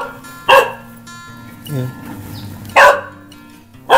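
A dog barks in three loud, separate yelps at an otherwise quiet house in a rural setting, with a few spoken words between the barks.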